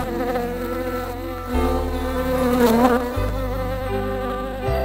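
A dense, loud buzzing hum of many bees, close by and continuous, shifting in pitch and intensity as they swarm around.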